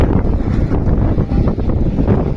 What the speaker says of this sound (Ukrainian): Вибачаюсь, бо дуже великий вітер.